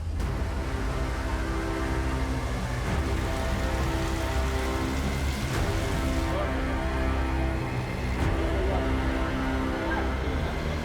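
Heavy hurricane rain pours steadily and densely, a constant loud hiss on surfaces with scattered louder drops, unbroken throughout.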